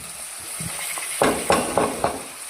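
Chopped tomatoes dropped into a hot pan for lemon chitranna, hissing and sizzling in oil, with a few soft stirring scrapes followed by four sharp bursts of sizzle at even intervals.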